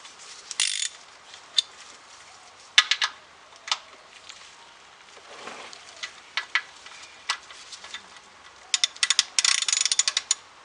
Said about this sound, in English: That's a 15mm socket on there. So I just want to loosen it up first of all